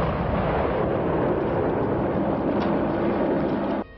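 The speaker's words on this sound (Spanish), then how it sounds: "Las bombas acaban haciendo explosión" A loud, sustained roaring blast from a bomb exploding after the Atocha attacks rumbles continuously for several seconds, then cuts off abruptly near the end.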